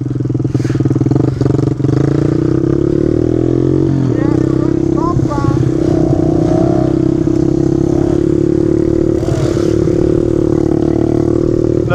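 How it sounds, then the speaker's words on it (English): Clutchless dirt motorbike riding through the woods, its engine droning loudly and steadily up close with shifting revs and a few rattles and clanks, while a rider talks over it. "These bikes are so fun out in the woods because you don't have to even find neutral."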